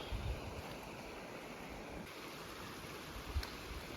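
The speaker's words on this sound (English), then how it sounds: "Across this nice little feeder creek" A small feeder creek flowing along a Rockies valley day hike near Yamnuska, a steady soft wash of water with wind noise, faint and continuous throughout without any talking.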